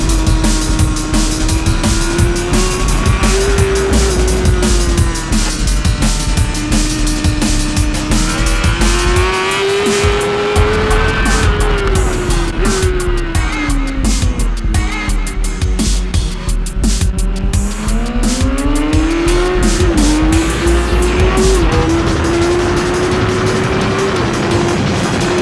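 A 2015 BMW S1000RR motorcycle laps a race track, its engine droning loud and continuous as revs rise and fall through corners and engine braking, with wind roar throughout.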